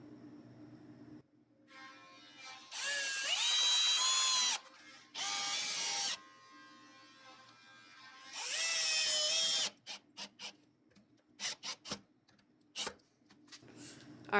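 Power drill driving small screws into the latch of an exterior door during a Schlage Plymouth doorknob and deadbolt install: three rising whirring bursts of several seconds each, then a string of short clicks and taps, close by.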